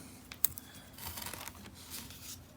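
Wooden stir sticks are snipped and cut down at close range, a few sharp snaps and crinkly scraping sounds in a quiet room.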